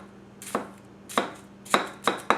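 Masakage Yuki 270 gyuto knife pushing down through a tall onion on a cutting board, four crisp separate chops with short pauses between them, close and fairly quiet, with no talking.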